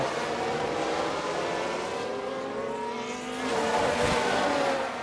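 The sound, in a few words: F1 race cars overtaking, F1 Manager 22 video game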